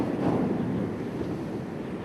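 Sea waves wash in a steady, broad rushing roar with a slight swell at the start, heard alone as a sound effect while a box is thrown into the sea.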